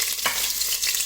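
Meat frying in hot oil in a pressure cooker, a loud, steady close-up sizzle with a brief spatter, no talk.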